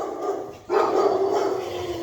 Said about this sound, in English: The dogs let everyone know someone comes.